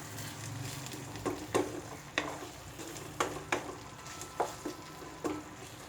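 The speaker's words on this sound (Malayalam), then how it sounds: "ഇത് നന്നായിട്ടൊന്ന് മിക്സ് ചെയ്യുക." Brinjal masala being stirred in a sizzling pan with jaggery and tamarind, a spoon scraping through it in about eight irregular strokes over a steady low fry hiss.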